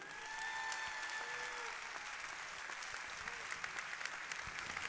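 Audience applause fills a hall at a French startup awards event, a steady dense wash of many hands clapping for the whole stretch, fairly distant and even in level, with no one speaking over it.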